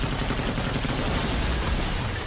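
The Emerald Splash attack from a JoJo parody bursts out as a dense, loud barrage of rapid impacts, like a continuous volley of projectiles, sustained throughout with no voices.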